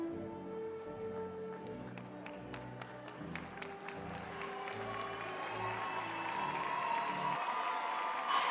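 Applause from a crowd at a graduation ceremony for the class of 2022, scattered claps at first that swell into a fuller, sustained ovation with cheering and a few whistles.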